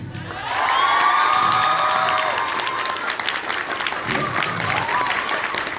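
An audience at a school Maulid Nabi gathering bursts into loud, sustained clapping with some cheering, which slowly tapers into lighter scattered applause near the end, while voices carry faintly underneath.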